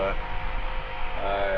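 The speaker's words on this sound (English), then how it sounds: "That noise you can hear is the fan back there," A steady, broadband mechanical hum with a low drone runs continuously, like a nearby cooling fan whirring at an even level, inside a boat with hatches closed against rain.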